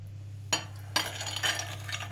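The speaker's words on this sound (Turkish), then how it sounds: "Bunu karıştırıyoruz." A spoon stirs Eti Negro biscuit cream filling in a bowl, giving a few light metallic clinks and scrapes over a steady low hum. The sound is faint and close, with no voices.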